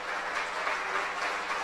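A church congregation applauds after a prayer, producing a steady, fairly soft wash of clapping that carries on evenly with no other sound rising above it.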